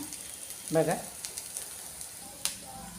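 Green pea tikki shallow-frying in oil over a low gas flame, giving a soft, steady sizzle with a brief voice-like sound near the start.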